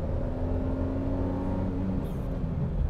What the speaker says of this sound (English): the performance from the engine, it's not bad at all